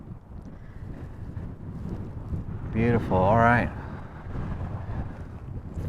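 Wind buffets the microphone in a continuous low rumble at an abandoned mine camp on a chilly day, while a person speaks briefly partway through.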